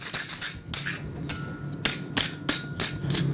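A blacksmith hammers hot iron on an anvil, striking about ten bright, ringing blows at a fairly quick, slightly uneven pace, close and loud.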